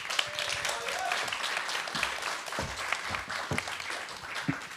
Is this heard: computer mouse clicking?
no